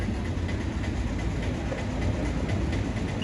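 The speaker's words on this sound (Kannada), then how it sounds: "ನೋಡಿ ಎಷ್ಟು ಕ್ರೌಡ್ ಇದೆ ಕೊಯಂಬತ್ತೂರು ರೈಲ್ವೆ ಸ್ಟೇಷನ್ ಮುಂದೆ" A train rumbles steadily nearby at crowded Coimbatore railway station, with a faint rhythmic clatter of wheels, a continuous loud mechanical drone filling the space.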